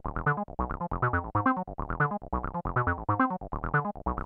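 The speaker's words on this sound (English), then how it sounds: "on the 303, if I put the accent at max, and with the VCA decay always fixed, it's going to sound like this." An Avalon synth set up in 303 style, with accent at maximum and a fixed VCA decay, plays a looping bassline of short, punchy notes in a steady, fast repeating rhythm, loud and on its own.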